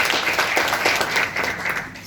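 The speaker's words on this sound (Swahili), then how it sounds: "A round of applause for that" A round of applause from an audience at a national cancer summit: dense, steady clapping with scattered sharper claps, fairly close and continuous throughout.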